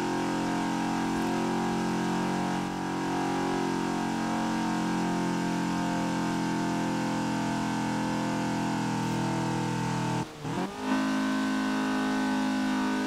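A 1980 Fiat 124 Sport Spider in Forza Horizon 4 holds a loud, steady engine drone while climbing a hill, with a brief dip and jolt near the end before the strained note resumes.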